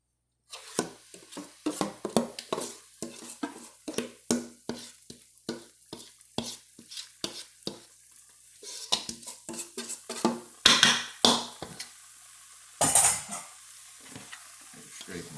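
Cornmeal going into hot grease in a cast iron skillet, heard as a long run of close, rhythmic scraping and stirring strokes with light sizzle underneath, then a few louder clinks and scrapes near the end.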